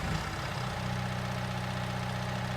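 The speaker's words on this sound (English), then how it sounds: "Look, I've got a stump grinder." A stump grinder vehicle's engine in Farming Simulator 19 idles with a steady, even mid-to-low rumble that holds at one level throughout, with no talk.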